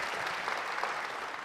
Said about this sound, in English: you clap if the answer to the question is yes